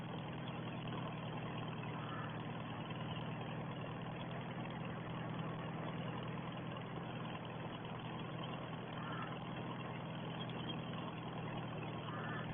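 A 1950 Farmall 300 tractor engine runs steadily while cultivating on a farm, a constant low mechanical drone with no change in pace throughout.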